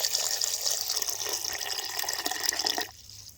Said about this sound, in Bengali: পরিশেষে দিচ্ছি শরবতের জল, ঠান্ডা জল